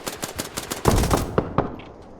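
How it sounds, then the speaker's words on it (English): Automatic rifle fire in the military game Arma Reforger, aimed at a building: a rapid string of sharp, loud shots, then a heavier close burst and a few scattered single shots fading off, with no talk. "Stop shooting into this building!"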